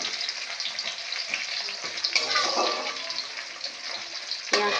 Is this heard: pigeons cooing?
no